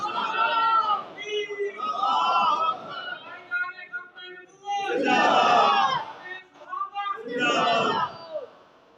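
At a religious gathering in Kasur, a crowd chants religious slogans in loud call-and-response bursts, a lead voice answered by the mass of voices, repeated several times.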